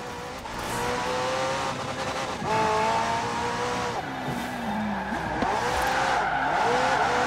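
A McLaren P1 GTR supercar with a twin-turbo V8 and electric motor, driven in the racing game Forza Horizon 4, revs hard and shifts through gears while its tires squeal and skid, loud and continuous with no voices.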